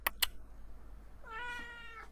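A house cat gives one drawn-out, rising-and-falling meow after two quick clicks, fairly close and clear over a quiet room, with no talk.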